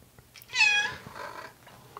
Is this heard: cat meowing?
yes